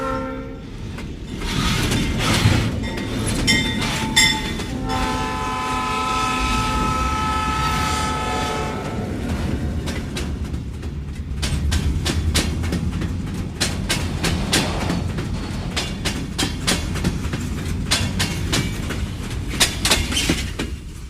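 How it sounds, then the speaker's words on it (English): A southbound C&O freight train rolls past on the rails, a loud, continuous rumble of wagons with repeated clickety-clack wheel beats and brief horn-like tones near the start, steady throughout. "a southbound C&O freight passes"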